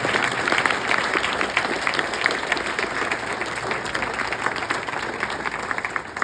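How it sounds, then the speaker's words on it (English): A full room of audience applause for alumni award recipients at an awards evening, a continuous dense wash of clapping that stays steady and fairly loud throughout. "Let's give one more round of applause to everybody involved, including our alumni award recipients."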